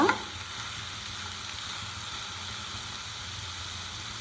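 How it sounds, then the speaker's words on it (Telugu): Ridge gourd pieces roast in a hot pan, giving a steady, even sizzling hiss with no talking, opening with a brief louder scrape. "ఈ విధంగా బీరకాయ ముక్క కూడా వేసుకొని బాగా రోస్ట్ చేసుకోవాలన్నమాట"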